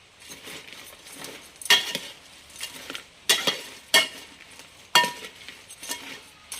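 Crab pieces with crushed garlic are stirred in a hot pan, giving a soft sizzle broken by several loud metallic scrapes and clinks of the spoon against the pan, irregularly spaced and close.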